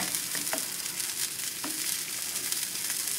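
Broccoli sizzles steadily while grilling in a pan on a stove top, a close, continuous crackling hiss with a few faint scrapes.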